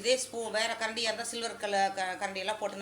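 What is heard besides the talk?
No everyday noise stands out behind the speech.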